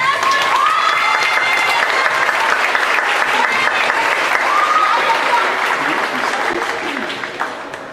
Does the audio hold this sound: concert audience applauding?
yes